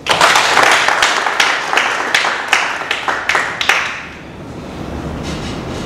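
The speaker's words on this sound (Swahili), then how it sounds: "Tumpigeni makofi." An audience at a gym training session breaks into loud, close applause that gives way to a few scattered claps before fading into room murmur.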